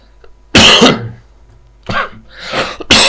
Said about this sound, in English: I've got a bad cough, you know.